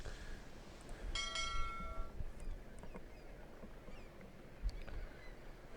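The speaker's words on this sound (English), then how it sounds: "Ring the bell again." A ship's bell in a pirate-ship video game strikes with a bright, ringing clang that decays slowly, then fainter knocks and creaks follow over soft ambient noise, with no voices.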